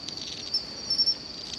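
Tsuzuresase and Enma crickets give a thin, continuous high trill, close and steady, with a few soft rustles under it.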